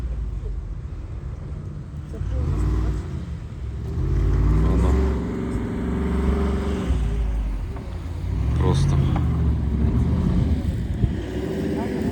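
A Jeep Wrangler Rubicon 392 churns off-road through rough, boggy terrain, its engine droning and surging steadily with wind buffeting the microphone throughout.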